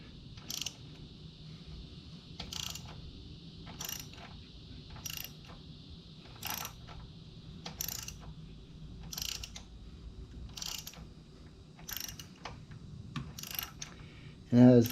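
A ratchet wrench tightens bolts while adjusting a chain, giving repeated short clicking bursts at a fairly regular pace, fairly quiet over a low background hum.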